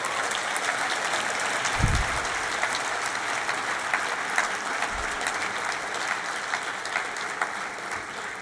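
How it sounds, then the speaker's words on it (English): An audience applauds at a Hult Prize global finals event in London, with sustained dense clapping that holds steady and loud for the whole stretch. "Let's give them one last round of applause"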